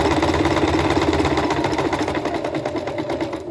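A sewing machine runs steadily, stitching a zigzag seam along a fabric edge, its fast even mechanical whir continuous and close throughout.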